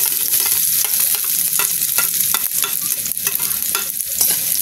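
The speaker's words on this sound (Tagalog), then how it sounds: "ato lang ilunod ang sibuyas, luya ug bawang kay init atong mantika" Onion, ginger and garlic sauté in hot oil, giving a steady, close sizzle with repeated scraping stir strokes throughout and no talking.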